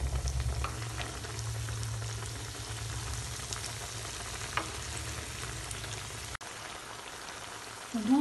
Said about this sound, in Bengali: এক সাইড ভাজা হয়ে গেলে আমি এবার এক এক করে উল্টে দেব, দিয়ে এই সাইডটাও ভেজে নেব।